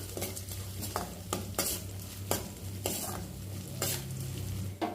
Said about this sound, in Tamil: சேர்த்த பிறகு நம்ம நல்லா வதக்கி விட்டுக்கலாம்